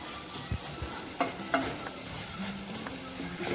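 Paneer bhurji with fresh coriander is stirred in a hot pan, giving a soft, continuous sizzle broken by several distinct spoon scrapes and knocks against the pan.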